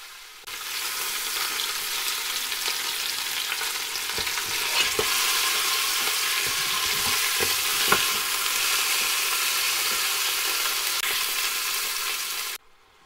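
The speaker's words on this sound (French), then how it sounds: "je vais faire dorer mes souris d'agneau de" Lamb shanks browning in a Cookeo electric pressure cooker pot, an even, close sizzle lasting throughout, broken by a few soft knocks and scrapes as the meat is turned.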